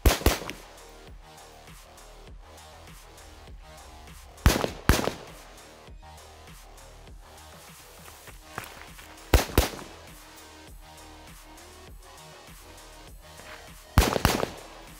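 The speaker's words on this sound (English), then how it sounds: "I have two targets, so I will shoot two rounds this, three things there. round there, two rounds this, two rounds there, and two rounds this" Rifle shots fired at two targets on a training range, sharp loud reports arriving singly and in small pairs separated by long quiet gaps, with faint background clatter between them.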